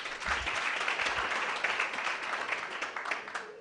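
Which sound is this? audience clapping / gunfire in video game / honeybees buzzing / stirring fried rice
audience clapping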